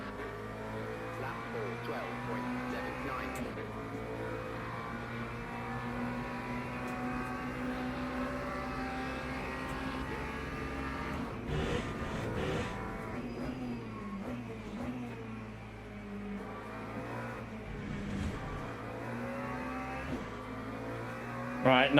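Race car engine in the racing game Le Mans Ultimate, a steady droning hum with shifting pitch as the throttle eases off and picks up, running continuously for over twenty seconds at moderate level under occasional talk.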